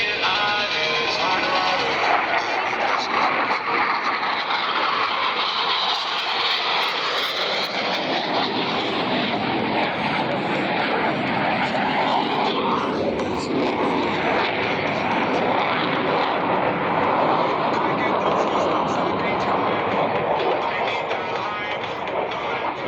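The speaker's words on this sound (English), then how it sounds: "Approaching inverted from the left and right, they will roll their aircraft 360 degrees, crossing over center point" Navy F-18 jets of a flight demonstration team roaring overhead during an opposing inverted-to-inverted roll at the Terre Haute air show, a loud, continuous broadband jet rumble sustained throughout with no pauses.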